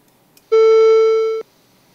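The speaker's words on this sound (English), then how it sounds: "so you can hear what kind of a beep the employee will hear." A single steady electronic beep from a BGI-MS1 vehicle motion detector through an HME drive-thru headset, loud and close, lasting just under a second, preceded and followed by quiet room hiss.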